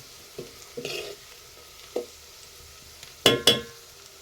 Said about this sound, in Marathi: तर टॉमॅटोची ना ग्रेव्ही बनवलेली होती मस्तपैकी ती टाकली बघा